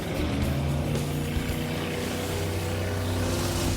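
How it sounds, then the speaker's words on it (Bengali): Cars drift in circles through water, their engines giving a loud, continuous droning hum that holds steady from start to finish. "ও ওরা তো জলের মধ্যেই ড্রিফট করছে, পুরো ডোনাটের মতো লাগছে।"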